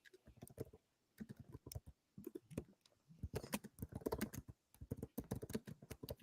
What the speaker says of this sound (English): Oh, I'm typing over here.